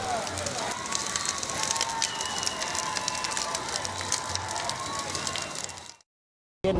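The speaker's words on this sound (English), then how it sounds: "in the background, the crackle of burning debris" Burning debris crackles amid chaotic street scenes, a dense sputtering texture with a steady rumble under a voice talking, cutting out abruptly near the end.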